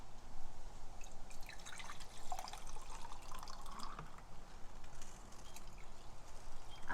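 Water trickles and splashes softly and continuously as it is poured for cooking basmati rice, a gentle pouring sound at low volume with no talking.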